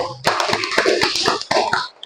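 A fourth-grade class claps for a group of classmates who just presented, a short burst of loud, uneven hand claps close by, with a brief pause partway through before a final flurry and sudden stop.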